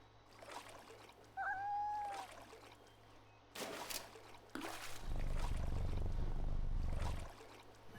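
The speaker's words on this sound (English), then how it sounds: "Oh, the cat purrs." A cat in the 2005 dungeon-crawler video game FATE meows briefly, then gives a low, rumbling purr lasting a couple of seconds, clear and close over quiet game ambience.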